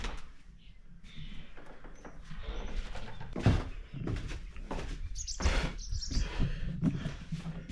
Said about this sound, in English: The birds are all in and out of this place.